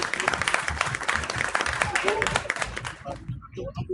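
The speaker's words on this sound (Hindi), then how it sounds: "Give a big round of applause" Applause from an award ceremony audience, steady dense clapping for a winner on stage, mixed with crowd voices and a host's talk, fading out toward the end.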